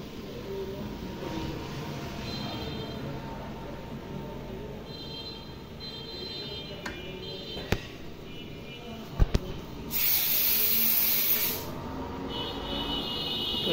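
LPG gas hisses while being transferred from one cylinder to another through a refill attachment set. A low steady rushing runs throughout with a few sharp clicks, then a loud, bright hiss bursts for about a second and a half near the end.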